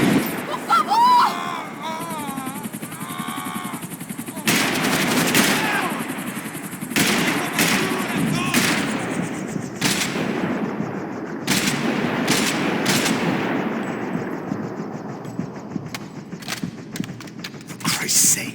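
Rapid bursts of gunfire and sharp shots in the video game Max Payne 3, loud and repeated through a frantic firefight, with shouted voices over the shooting.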